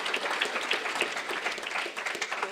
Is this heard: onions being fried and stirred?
no